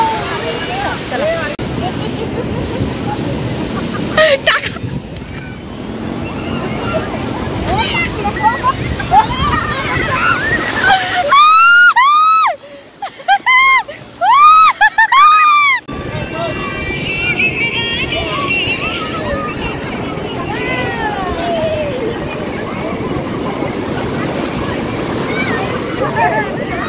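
Sea waves rolling in at high tide on a beach, a steady wash of surf beneath people talking almost throughout, with a short stretch where a tuneful sound briefly replaces the voices.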